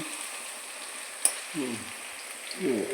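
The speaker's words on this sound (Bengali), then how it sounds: "পেঁয়াজটা ভাজা হচ্ছে। পেঁয়াজটা ভাজছি" Chopped onions fry in a pan with a soft, steady sizzle, broken by a sharp tap and a couple of low stirring scrapes near the end.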